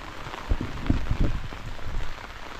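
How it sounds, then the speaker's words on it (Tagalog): Rain falls steadily on a surface in a rural Filipino home setting, a soft continuous patter with a few louder drops, moderate and not heavy, with no voices. "Buti hindi gano'ng malakas yung ulan."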